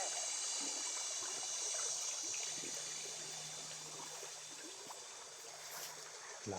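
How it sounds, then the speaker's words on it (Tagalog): A strong river current rushes in a steady, hissing wash, a constant broad roar heard nearby with no voices. "Lakas kasi ng ilog."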